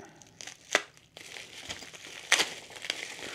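Taped-up package from a Talaria XXX electric dirt bike unboxing being torn open, with crinkling plastic and sharp ripping bursts at irregular intervals, close by.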